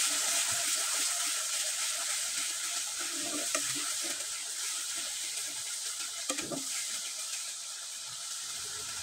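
Spice paste being stirred into a jackfruit seed curry in a pan, a soft steady sizzle with occasional scraping stir sounds, quiet and close with no talk.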